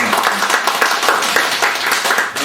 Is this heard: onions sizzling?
no